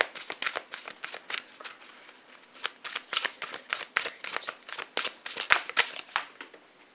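A deck of healing cards shuffled by hand, a steady run of quick riffling flicks and papery slaps, close and alone.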